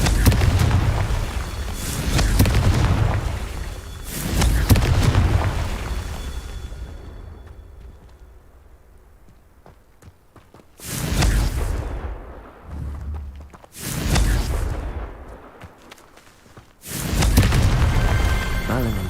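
Confringo fire spell blasting in the Hogwarts Legacy video game: several loud booming explosions with broadband bursts, separated by a quieter lull, with faint voice in between.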